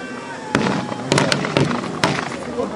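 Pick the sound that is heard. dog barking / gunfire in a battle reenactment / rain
gunfire in a battle reenactment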